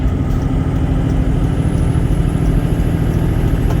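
A truck engine droning steadily while driving on ice, a loud continuous low rumble with constant road and engine noise and no clear gear change audible.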